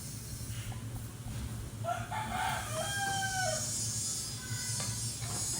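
A pet bird calls out with a rooster-like crowing cry in a home kitchen, loud and repeated over constant background noise from neighbourhood house construction.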